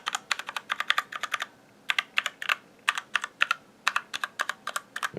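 Close-up keystrokes on a Kemove Dierya 60% keyboard with swapped keycaps: bursts of crisp, rapid clacking broken by brief gaps, loud and isolated.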